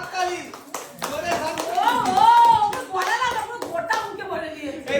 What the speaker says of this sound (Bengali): হাততালি, জোরে